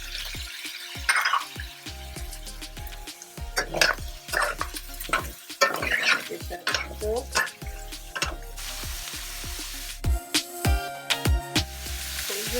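Shallots and garlic fry over medium heat in a pan for seafood paella, a close sizzle broken by frequent scraping and clanking of a utensil against the pan, with no voices.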